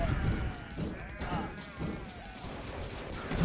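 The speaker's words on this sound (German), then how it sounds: "Noch mehr Schafe." Sheep bleating in the Deer Simulator video game, several bleats over a busy, noisy game soundscape with thumping effects, fairly loud throughout.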